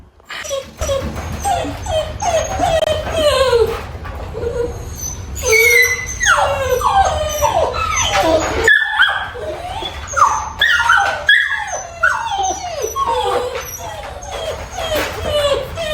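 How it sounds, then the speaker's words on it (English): Several Great Dane puppies cry and whimper continuously, high-pitched yelps and whines overlapping close by, with a low steady hum underneath. "puppies are going to cry"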